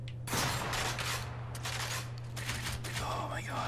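Rapid bursts of video game gunfire in a Gears of War firefight ring out loud and continuous, with sustained automatic fire and scattered shots layered over a steady electronic hum.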